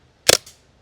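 A CO2 airgun fitted with an AAC-C1 M170 power chamber fires once, giving a sharp, loud, close crack with a brief mechanical echo just after.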